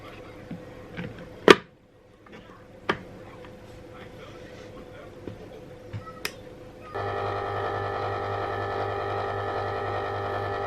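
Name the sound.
ice cream maker humming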